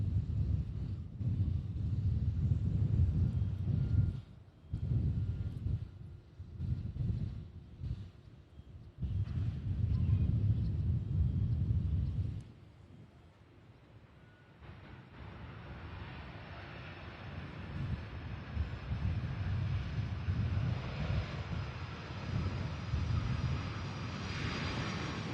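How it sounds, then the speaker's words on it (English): A Boeing 767-300 from Salt Lake City lands at Louisville SDF airport, its jet engines roaring steadily at a distance and then shifting to a thinner, brighter rushing whine, with wind buffeting the microphone throughout. "that Boeing 767-300 making its way, landing now"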